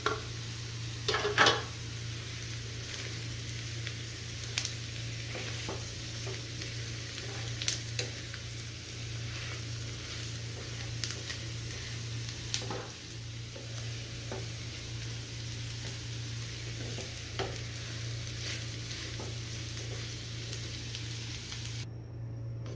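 Boiled, hand-mashed medium potatoes frying in a pan with sautéed onions for potato tacos, a faint steady sizzle with a few soft stirring scrapes and clinks, no talking.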